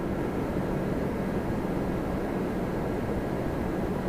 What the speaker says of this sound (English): Absolutely beautiful aircraft, A350-1000 Qatar.